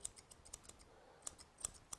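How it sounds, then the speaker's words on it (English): Grooming scissors snip through the coat of a Bichon Frise in quick, crisp clicks, close and quiet, scattered irregularly without talk. "I will bevel my scissors to the middle also"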